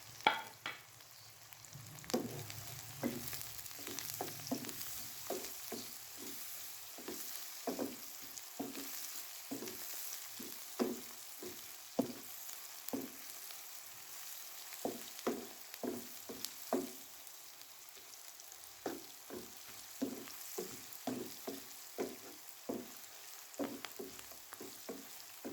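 Whole spices such as cardamom, cumin and nutmeg sizzling and crackling in hot oil in a pan for chicken tikka dum biryani, with steady frying hiss punctuated by repeated sharp pops and stirring scrapes, close and continuous without talk.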